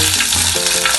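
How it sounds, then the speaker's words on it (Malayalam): Mustard seeds, curry leaves and green chillies sizzle in hot oil in a clay pot for okra pulissery, giving a loud, close, continuous crackling fry hiss with no voices. "അതിലിപ്പോൾ എണ്ണ ചൂടായി, അതിലേക്ക് നമുക്ക് കുറച്ച് കടുക് ഇട്ട് കൊടുക്കാം."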